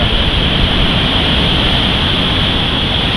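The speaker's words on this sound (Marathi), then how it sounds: "पाणी इथपर्यंत लाटा येतात आहे" Heavy waves crash onto the shore at Ganpatipule beach during rain, producing a continuous, loud wash of surf and wind noise without breaks or talk.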